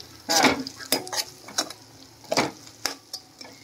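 Red chilli sauce and soy sauce are stirred together in a pan before pasta goes in, with a handful of spaced, close spoon scrapes over a faint sizzle.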